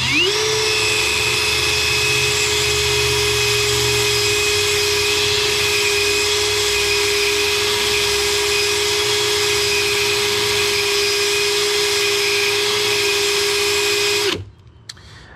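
A sanding paddle presses against a spinning RC car tire driven by a motor, producing a loud, steady whirring drone with a faint rough grinding that runs unbroken for about fourteen seconds before cutting off.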